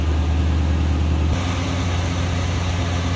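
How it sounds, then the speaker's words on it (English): The Rocket 350 V8 of a 1972 Oldsmobile Cutlass Supreme Convertible idles steadily with a smooth, low droning rumble, even and continuous with no revving. "hear how smooth that Rocket 350's running"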